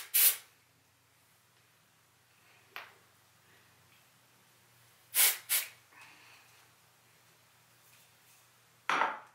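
R+Co Balloon Dry Volume Spray, an aerosol hair spray, gives several short hissing bursts, mostly single blasts with one quick double puff, spaced apart in an otherwise quiet room.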